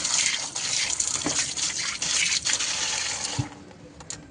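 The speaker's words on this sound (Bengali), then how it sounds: "জল তুলে জলের তলায় দিয়ে দেবেন" An air conditioner filter net is rinsed under running water, a steady broad gush with scattered splashes and clatter that trails off near the end, with no talking.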